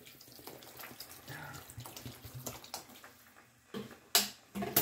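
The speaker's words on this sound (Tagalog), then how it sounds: "Pwede natin dagdagan ng tubig." Water pours from a tap into a pot of boiling spareribs being cooked for nilaga, a quiet splashing stream with a few louder bursts near the end.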